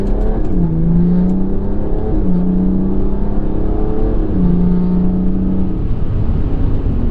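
A stage 3 hybrid-turbo BMW 330d F30 diesel accelerates hard, its loud engine note climbing through the revs, dropping briefly at each gear change, then pulling up again, heard from inside the car with no talk.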